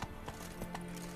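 A horse gallops in The Witcher 3: Wild Hunt, its hooves clip-clopping in a quick, steady rhythm over low game ambience, fairly close and moderately loud.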